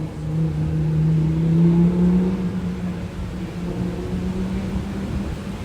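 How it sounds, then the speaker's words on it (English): Racing cars pass along a Las Vegas street with a loud, sustained engine roar that swells to a peak then eases slightly while staying continuous, no talk over it. "Hold on, let the racers pass by."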